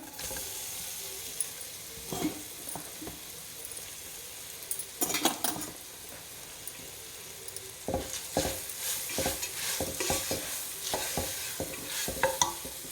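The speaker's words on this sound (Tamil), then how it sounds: "இப்போ நம்ம துருவின வாழைக்காய் சேர்க்குறேன்" Grated raw banana is stir-fried in a pan for vazhakkai podimas, with a steady sizzle under a series of sharp spatula scrapes and clinks that come in bursts and build toward the end; no one talks.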